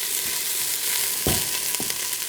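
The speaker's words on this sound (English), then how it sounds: "now that it's gotten in there to sizzle a little bit" Onions sizzle and crackle steadily in a hot pan, with a few louder scraping stirs cutting through the constant frying hiss.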